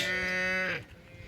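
A cow gives a single loud, close moo in an open village field near the coast, holding a steady tone before breaking off into quieter outdoor background.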